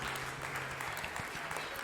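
A burst of applause, a clapping sound effect inside the game No Man's Sky, patters steadily at moderate volume, with a low hum underneath.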